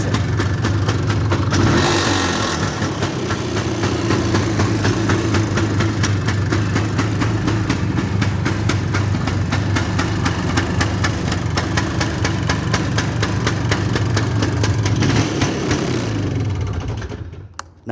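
A motorcycle engine idles steadily and loudly up close, a continuous low rumble with one brief rev near the start and another toward the end before cutting off, with no talking.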